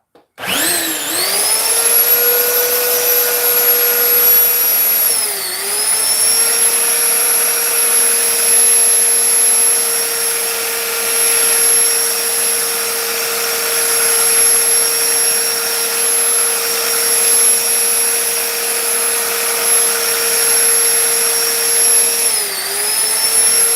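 A steady, loud powered grinding whine runs continuously from a sharpener working on mower blades, scissors and knives, with brief dips in pitch as the blade is pressed against the wheel.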